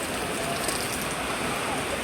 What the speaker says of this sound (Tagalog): Grabe po kalakas ang ulan.